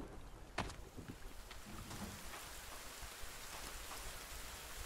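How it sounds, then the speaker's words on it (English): Steady rain hisses across the soundscape of The Forest video game during a rainstorm, a dense continuous wash with a brief sharp crackle near the start and no voices. "Ooh, storm."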